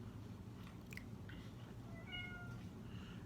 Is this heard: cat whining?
yes